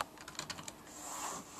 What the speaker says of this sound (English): I'll press the key to associate the keyboard, and now I have another computer.